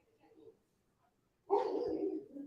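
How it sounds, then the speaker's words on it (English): A dog barks in a short, fairly loud burst that sets in halfway through and carries on to the end, after a quiet stretch with only faint murmuring. "Did you hear dogs barking?"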